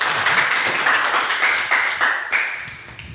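Schoolchildren in a classroom clap for a group after a discussion, a brisk burst of many hands that gradually thins and fades.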